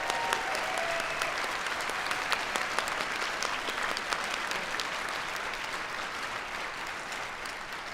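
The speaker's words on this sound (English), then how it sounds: "And if we can give them a round of applause." An audience at a medical school commencement applauds the standing medical doctors, a dense, sustained clapping that fills the hall at steady volume throughout, with faint crowd murmur beneath.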